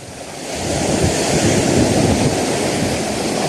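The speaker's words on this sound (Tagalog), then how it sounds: "Medyo inaabot tayo ng alon." Ocean waves surging against the shore with strong wind buffeting the microphone, a loud continuous broadband roar swelling in after the first half second and holding steady, with no voices.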